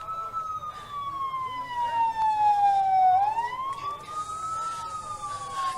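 An ambulance siren wails with a slow rising and falling tone, continuous and fairly loud, over street noise and faint voices in the background.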